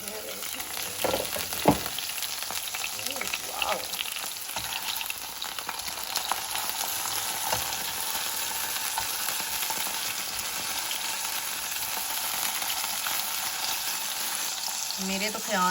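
Chicken steak frying in oil in a pan gives a steady, close sizzle throughout, with a few brief louder crackles and stirring clatters early on and no talking.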